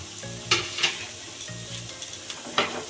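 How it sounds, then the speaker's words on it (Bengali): Taal chushi pitha (palm fruit dumplings) fry in hot white oil in a wok, giving a steady close sizzle broken by a few sharp clinks and scrapes of a utensil. "কড়াইতে সাদা তেল দিয়ে আমি গরম করে নিয়েছি তো সেগুলো ভাজার জন্য এখন আমি দিয়ে দিচ্ছি"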